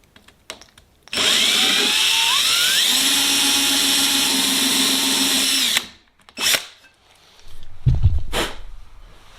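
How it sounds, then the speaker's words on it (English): A power drill whines loudly for about five seconds while boring a hole in a Sonex aircraft aileron, the pitch climbing as it spins up, then stops, followed by brief handling noises. "I'd rather get the hole drilled properly than worry about you seeing it."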